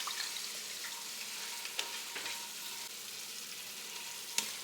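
Ground beef cooking in a pan with a splash of Worcestershire sauce, a soft steady sizzle with occasional light clicks of a spoon stirring, fairly quiet and close.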